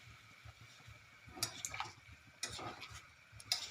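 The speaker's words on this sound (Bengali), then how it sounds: "পরিমাণ মতো দিয়ে জলগুলো দিয়ে আবার ভালোভাবে নেড়ে চেড়ে" A broccoli and potato curry with added water is stirred in a pan, giving faint, quiet scrapes and a few light clinks at irregular intervals over a soft background hiss.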